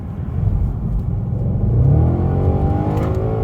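An Audi's engine revs up under acceleration from inside the car, a loud rising drone with a climbing pitch and no talking.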